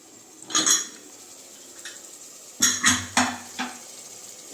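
Masala sautéing in a pressure cooker for coriander rice, with a few scattered metal scrapes and clinks of stirring over a faint frying hiss, close and fairly quiet.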